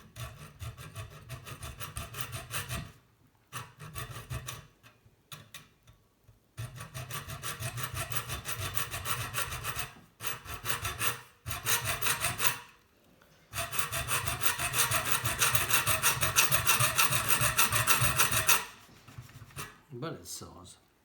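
Hand saw cutting through a hard scrap kettle heating element for model exhaust headers, in repeated rasping stroke bursts with short pauses between, close and fairly loud.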